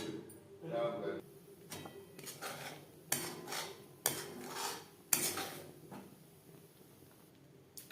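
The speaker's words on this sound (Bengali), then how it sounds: "এইভাবে অনবরত নাড়াচাড়া করে থকথকে করে নেব" Custard being stirred continuously in a pan on a gas flame, a spoon scraping and clinking against the metal in irregular bursts, with kitchen clatter and a voice speaking over it.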